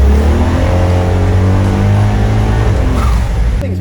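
The turbocharged grey motor of a 1953 FX Holden Ute runs loud and close, a deep, steady engine drone with rising harmonics as it revs, ending with a brief drop in pitch.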